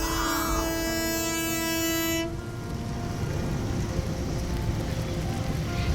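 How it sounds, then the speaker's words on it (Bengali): Train at Joydebpur railway station after rain sounds a loud, sustained multi-tone horn for about two seconds, then gives way to steady rumbling rail and station noise. "এখন আমি জয়দেবপুর রেল স্টেশন নামলাম।"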